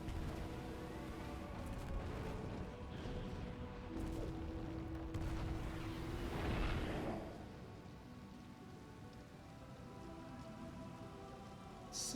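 A crater collapse explosion in Metroid Prime Remastered rumbles as a long, dense roar of crackling debris and low booms, swelling briefly in the middle before settling into a steady rumble.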